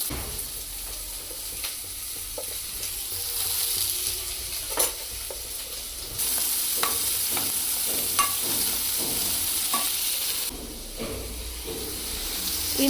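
Onions frying and being stirred in a pan at home, a steady sizzle and hiss with repeated scraping strokes of the spoon, close and continuous with no talk.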